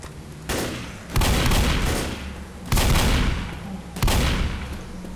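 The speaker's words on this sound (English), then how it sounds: "Took the crappy shotgun again." Four heavy shotgun blasts in Left 4 Dead, loud and close, spaced about a second apart, each with a long booming tail.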